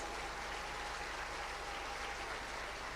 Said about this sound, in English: I hear the applause.